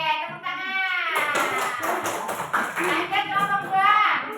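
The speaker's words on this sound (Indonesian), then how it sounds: "oke, tepuk tangan." Classroom children clapping their hands together in a group, a steady burst of claps mixed with lively young voices talking and calling out over it.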